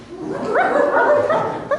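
An innkeeper's puppy gives a single drawn-out whining yip in a Christmas nativity pageant, followed by a short sharper yelp at the end. The sound is close and fairly loud.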